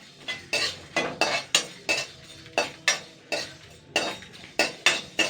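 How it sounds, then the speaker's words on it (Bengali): Black cumin seeds are dry-roasted in an empty wok, a metal spatula scraping and stirring in a steady rhythm of about two strokes per second, close and clear with no talk. "এটাকে আমি ভেজে নেবো শুকনো কড়াইতে জাস্ট দুই মিনিট মতন"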